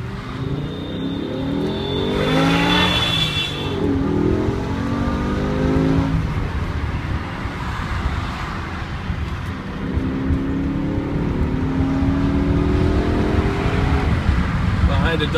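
A BMW E60 M5 accelerates hard onto the highway, its engine note sweeping upward through several gear changes, loud from inside the cabin with a steady road roar beneath and a voice talking over it.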